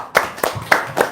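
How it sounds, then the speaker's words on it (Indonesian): A few sharp handclaps from an audience at a motivational talk, four distinct claps in quick succession, close and dry with no talk. "Tepuk tangan dulu dong."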